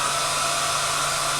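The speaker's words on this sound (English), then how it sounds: "I will take a hair dryer and I'll put it on low" Steady, loud whir of a hair dryer on its low setting, used to fluff a Vie Long horse hair shaving brush, running continuously and alone without any change in pitch.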